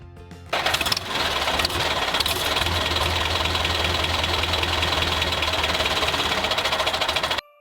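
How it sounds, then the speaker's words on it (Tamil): A tractor engine chugs loudly up close, running at a steady knocking rhythm for several seconds before cutting out abruptly. "இது டிராக்டர் வயலுக்கு செல்கிறது"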